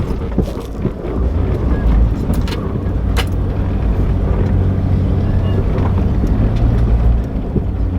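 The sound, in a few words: Jeep WJ driving slowly through sand pits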